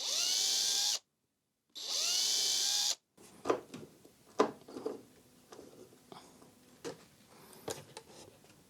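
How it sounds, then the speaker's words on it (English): A power drill whirs in two steady bursts, close by, pre-drilling and driving screws into a wooden picture frame, with a short pause between them, followed by scattered knocks and clatter of handling. "pre-drill some holes and drive in the screws"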